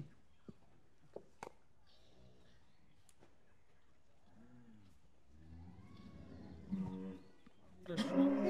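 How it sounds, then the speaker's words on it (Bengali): A native cow that has recently calved gives low, drawn-out lowing calls at close range, mixed with sharp handling clicks and knocks, while a person talks nearby. "দেশি গরু একটু দুষ্টমি হবে, দেখো বাবা।"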